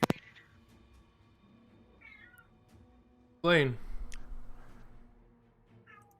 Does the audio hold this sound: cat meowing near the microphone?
yes